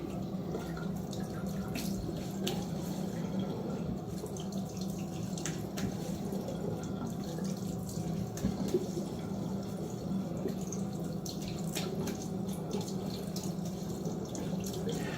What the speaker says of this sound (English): A little rinse.